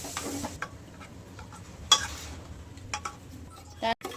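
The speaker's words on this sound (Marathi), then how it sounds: "डाळीला फोडणी टाकून घेऊयात आता" Spices crackle in hot oil as tempering for dal, a faint, steady sizzle with a few sharp utensil clinks and a stirring knock toward the end.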